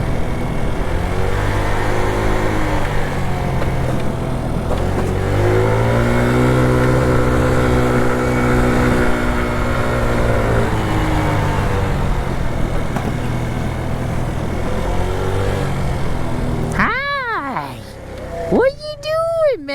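A scooter fitted with a big bore kit revs hard while popping wheelies, its engine note rising and falling loudly through the run, with a few sharp chirping sounds near the end.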